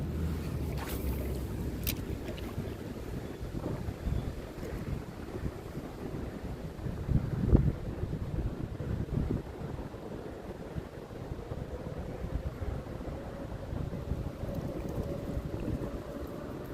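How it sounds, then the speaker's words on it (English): Wind gusting outdoors beside a river, a steady low rumble buffeting the microphone throughout, with a brief stronger gust partway through and water and boat sounds mixed faintly underneath. "And this wind is picking up again."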